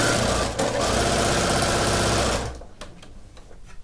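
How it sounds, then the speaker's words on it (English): A sewing machine stitching binding onto a Minky baby blanket quilt runs loud, close and steady for over two seconds, then stops, leaving faint handling noise. "So I'm going to sew in just a little closer."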